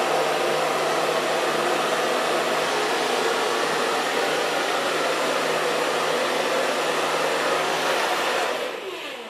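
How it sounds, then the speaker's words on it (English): A hair dryer blows hair dry in a salon, a loud steady close-up whoosh running continuously before it tapers off at the very end. "So far blow drying."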